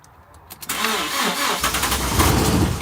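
An old budget car's engine cranks briefly and catches after a fuel cut-off reset, then settles into a steady, slightly uneven idle heard up close, with no talking.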